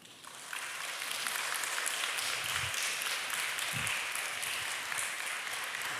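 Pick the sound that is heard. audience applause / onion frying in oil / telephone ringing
audience applause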